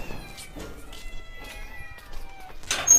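A cat meows repeatedly indoors in a home with several cats, thin drawn-out calls at moderate distance over low household noise, rising to a louder cry near the end.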